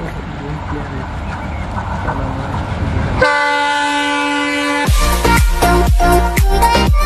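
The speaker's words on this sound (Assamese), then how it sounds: "ৰেল আহি গৈছে তে ৰেলখন আপোনালোক দখম" A train passes close by in Assam, first a loud horn blast and then heavy wheel clatter with rhythmic clicking over rail joints, loud and near.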